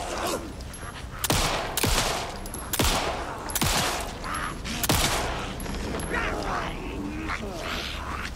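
Gunfire in the horror video game Alan Wake 2, several loud sharp shots spaced a second or so apart over a noisy, reverberant game background.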